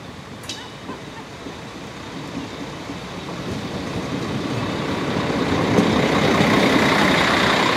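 An AKN special train running on the BGE line near Geesthacht pulls into a platform at Krümmel, its broadband rumble and rolling noise rising steadily as it draws nearer, with no talk over it.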